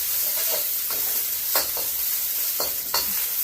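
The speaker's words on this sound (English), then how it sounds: "We're going to stir fry this for about maybe a minute." Shrimp and asparagus sizzle and crackle steadily in a hot wok, with occasional scraping and tossing noises from stirring, close up and without talk.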